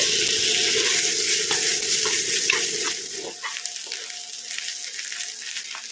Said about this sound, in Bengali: সর্ষের তেল গরম দিয়ে মিহি করে কুচানো পেঁয়াজ দিলাম